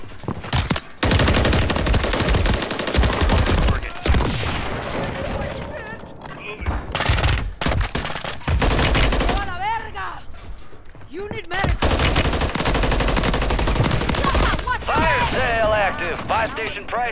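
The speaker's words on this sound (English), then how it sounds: "I'm taking fire!" Call of Duty Warzone gunfire on Rebirth Island comes as loud, rapid automatic bursts and crackling shots across the clip. Voices and radio-style callouts sound between and over the firing.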